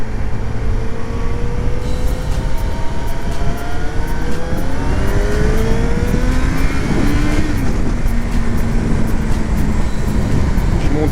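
Motorcycle engine accelerates hard on the road, pitch climbing in rising sweeps through the gears, loud and close with strong wind rush throughout.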